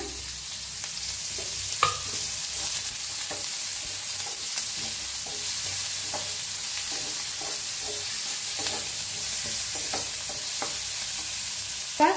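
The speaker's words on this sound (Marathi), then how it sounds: "तर कांदा भाजून घेऊया आपण" Chopped onion fries in a pan, an even, sustained sizzle broken by occasional soft clinks and stirring scrapes, close and steady throughout.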